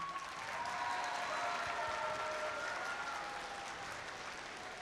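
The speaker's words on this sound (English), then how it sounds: "give your mentors and coaches a huge round of applause" Audience applause for mentors and coaches at a FIRST robotics district event opening ceremony in Statesboro, a steady, dense crowd clapping that swells slightly and holds for several seconds in a large hall.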